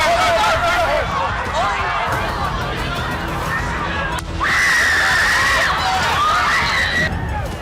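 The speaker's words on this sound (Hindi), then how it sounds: "ट्रंप के नीचे गिरते ही रैली में चीख पुकार मच गई।" A crowd at a Trump rally screams and shouts in panic after gunshots, a dense, continuous wall of shrieks and yelling voices that swells louder partway through.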